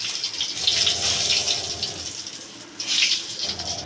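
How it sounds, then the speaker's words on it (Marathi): Water poured into a cooking pot of whole spices for prawn biryani, a close gushing splash in two bursts with a short pause between them. "आणि त्यात आता आपण 1 तांब्या पाणी ॲड केलं आहे."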